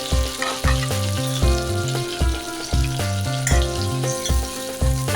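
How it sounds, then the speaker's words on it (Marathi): Chopped onion, tomato, crushed ginger and garlic fry in a pan for stuffed brinjal, a steady sizzle sitting beneath loud rhythmic background music with a plucked bass line. "आता त्यात जाईल कांदा टोमॅटो आणि आलं लसूण चेचलेलं"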